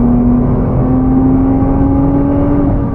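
A 2024 Nissan GT-R accelerates to overtake, heard from inside as a steady, loud engine drone whose tone rises slightly for a few seconds.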